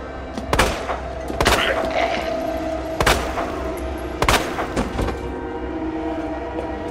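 Gunshots in the video game Resident Evil 2 Remake: several sharp, loud bangs spaced irregularly over a low rumbling game background, with no talking.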